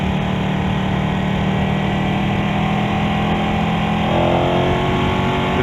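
2018 Ducati Panigale 899 motorcycle engine during a test ride, a loud continuous close-up drone with a steady pitch that climbs slightly near the end as the revs build.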